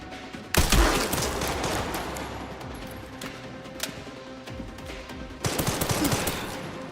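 Bursts of automatic enemy machine-gun fire in Resident Evil Requiem, loud and close, with a heavy volley at the start, scattered shots through the middle and another sustained burst near the end.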